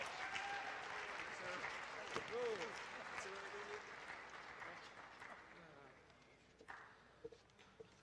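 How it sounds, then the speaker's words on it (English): An audience at a school event applauds a coach, giving moderately loud scattered clapping that slowly fades. A voice talks over it, and a few sharper claps stand out near the end. "Let's give him a round of applause, Mr. James Panowitz."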